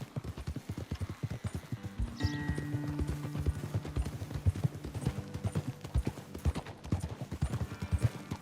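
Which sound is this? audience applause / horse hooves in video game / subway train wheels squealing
horse hooves in video game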